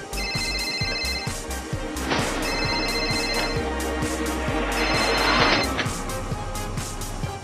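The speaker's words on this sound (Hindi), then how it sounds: "Daddy, राश, pick up the bloody phone." A telephone rings in repeated electronic bursts, loud and close, with a rhythmic clicking pattern running underneath and no talking.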